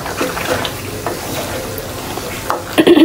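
Food being stirred and fried in a village-style home kitchen: scraping stirs and a continuous sizzle, with a few louder clatters and scrapes near the end.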